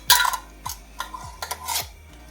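Glass jam jars with lids being set into a pot for canning, giving about five sharp, close clinks and knocks spaced unevenly over a couple of seconds, with no talking.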